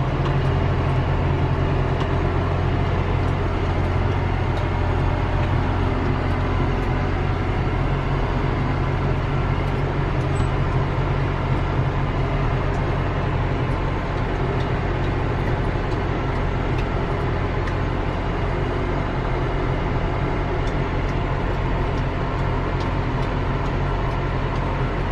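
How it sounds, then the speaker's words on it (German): A Claas Jaguar 860 forage harvester with a transversely mounted Mercedes V8 engine chopping maize, a loud, constant heavy engine drone with a dense rumble that holds unchanged throughout. "Der Jaguar 860, der hat einen Mercedes V8 hinten eingebaut, quer. Macht ordentlich Bums, das Gerät."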